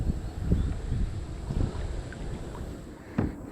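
Wind gusting across a kayak on open water while bass fishing, a low steady rush with occasional soft knocks and splashes of the hull, no talking heard.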